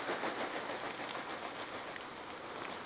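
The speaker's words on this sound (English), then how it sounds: "Hardcore rain coming down." Heavy rain drumming steadily on a taut tent, a dense, even hiss of drops with no pauses, close and fairly loud.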